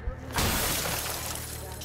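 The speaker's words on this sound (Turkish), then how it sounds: "Camı kırdık ya" Car window glass shattering in Cyberpunk 2077: a short thump followed by a loud, bright crash of breaking glass that rings on and slowly fades, with speech heard alongside.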